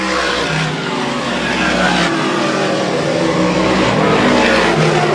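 Dirt modified race cars roar around a dirt oval at Airborne Speedway in Plattsburgh, New York, a loud, continuous engine drone with rising and falling revs as the pack runs a qualifier.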